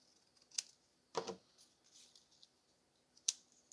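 Scissors snipping through a paper file folder for a scrapbook journal page: a couple of sharp, close snips, with a brief crunch of paper handling between them and no talk.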